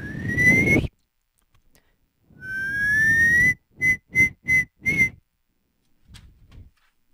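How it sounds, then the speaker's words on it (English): A whistle is blown: one long tone that slides upward, then four short, sharp blasts in quick succession, with faint quiet gaps around them. "Suddenly, out came a real whistle."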